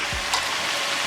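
Pork chops sizzle in a pan as they finish cooking, a steady close hiss of frying with a faint brief clink partway through and no voices.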